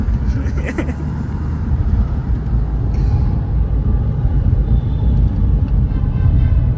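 A Mahindra XUV500 being driven produces a steady low engine and road rumble from inside the cabin, continuous and loud, with a faint brief chirp early on.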